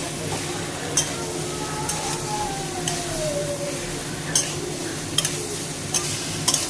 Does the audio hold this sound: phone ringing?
no